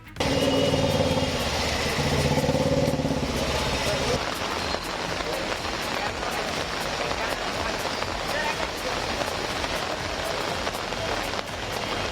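Heavy rain pours steadily in a broad, continuous hiss over a city, with what may be a voice in the opening seconds and traffic or engine noise beneath the downpour.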